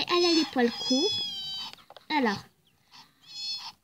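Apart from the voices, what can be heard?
cat meowing in the video game Nintendogs + Cats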